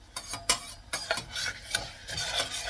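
A pot of food is stirred by hand with a utensil in a pot of boiling salted ghee, giving close, rhythmic scraping and swishing strokes against a faint sizzle.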